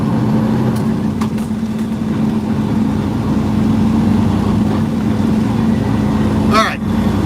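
A big truck drives through Chanute, Kansas, its engine a loud, steady low drone close by, with a brief high squeal rising near the end.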